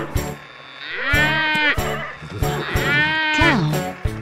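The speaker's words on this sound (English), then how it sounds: "That's right! It's a cow!" Cartoon cow in a toddler show about tractors and trailers, giving two drawn-out, pitched animal calls with bright rising and falling tones, interspersed with short clicks and toy-like effects.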